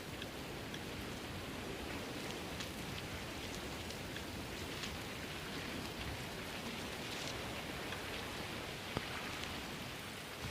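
Steady rain from the weather effects in the downhill mountain-biking game Lonely Mountains Downhill, a dense, even hiss of falling drops with scattered pattering hits, continuous and close throughout with no voices.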